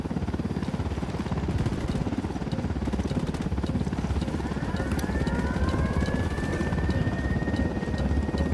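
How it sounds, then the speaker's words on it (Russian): Helicopter rotor and engine noise in Ghost Recon Wildlands, a steady loud throbbing drone that holds throughout with a faint rising whine partway through. "Вертолет, ложись!"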